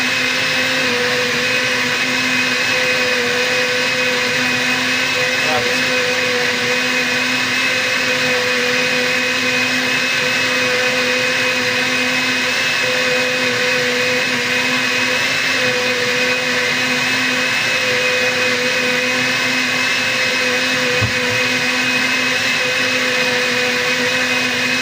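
A blender whirring steadily while making oat milk, a loud continuous motor drone with a fixed pitch that never lets up, heard close and alone.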